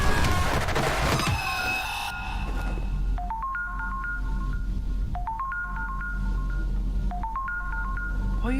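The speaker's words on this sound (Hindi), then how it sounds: "क्या नोटिफिकेशन का बजता रहेगा क्या? कहाँ बज रहा है?" Notification tone repeating inside the horror game Granny, a stepped chiming ringtone pattern that sounds three times at roughly two-second intervals over a steady low hum, after a brief busier burst at the start.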